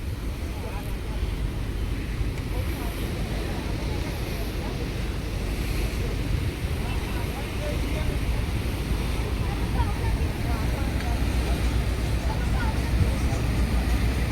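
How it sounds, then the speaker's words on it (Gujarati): A fishing boat passes on the sea off Mangrol harbour as small waves wash by, heard as a continuous low engine drone blended with steady surf and gusty wind buffeting the microphone. "ઝીણા એવા મોજા આવી રહ્યા છે, પસાર થઈ રહ્યા છે, અને બોટ અત્યારે પસાર થાય છે"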